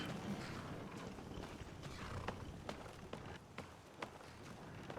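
A horse gallops away inside Skyrim, its hoof clip-clops forming a quick, irregular run of hard taps over a steady wash of ambient game noise, growing a little fainter as it goes.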